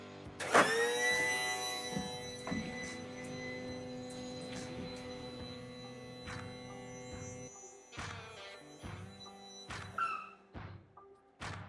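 Landing gear extending on a homemade airplane: an electric motor whine with steady tonal hum runs for several seconds, ending in a series of mechanical thunks and clicks as the gear locks, close and fairly quiet, without talk.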